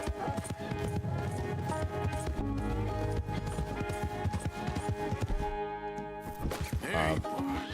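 Horse hooves clip-clopping in Red Dead Redemption 2, a steady run of hoofbeats under game music and ambient sound, with bursts of speech over it.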